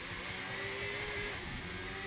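Engine of a car driven in The Crew 2 on a Route 66 road trip, a steady, continuous drone with a faint whine, held at a constant loud level with no speech.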